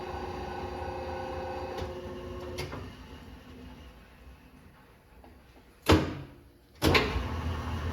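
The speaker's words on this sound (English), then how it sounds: "Cyclematic second operation lathe. That's the low gear. Nice quiet machine." Cyclematic Turn-Pro CTS-27 second operation lathe running in low gear at an auction gives a quiet steady hum with faint tonal whine that softens partway, then two sharp clunks near the end.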